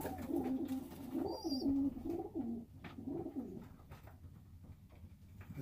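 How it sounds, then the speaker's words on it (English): A blue bar pigeon coos in a loft, a close, soft rolling coo repeated several times over quiet background noise. "This is a beautiful bird."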